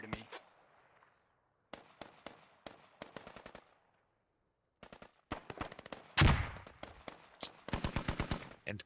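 Rapid volleys of gunfire and artillery shots in a squad-based military video game, sharp cracks in bursts separated by short pauses, with one heavier blast in the middle, near and fairly loud.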